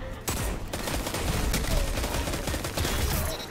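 Rapid bursts of gunfire from the Destiny 2 video game during a PvP match, dense overlapping shots firing continuously and loudly throughout.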